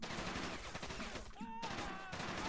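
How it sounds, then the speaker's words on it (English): A Japanese submachine gun fires in the World War II strategy game Men of War: Assault Squad 2, a dense rattling burst of rapid shots with distant battle noise, then a short tonal cue. "here's Japan's submachine gun for you."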